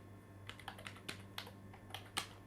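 Keys clack on a computer keyboard as Python code is typed, with soft irregular taps at a close, quiet level and no voices.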